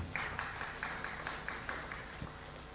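A crowd claps at a regency council plenary meeting in Pelalawan, a steady patter of applause from the audience that holds on evenly, heard alone without talk.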